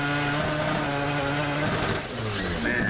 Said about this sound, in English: he's just on that rev limiter